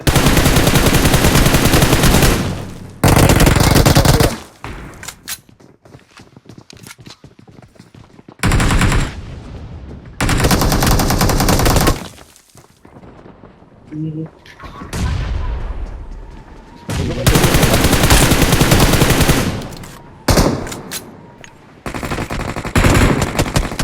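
Loud gunfire in the video game PUBG, long rapid bursts of automatic fire separated by brief quiet gaps, close and dominant throughout.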